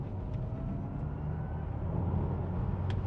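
Audi e-tron GT electric car driving with its artificial spaceship-like sound, a steady low whirring drone that swells slightly, heard from inside the cabin with no talking.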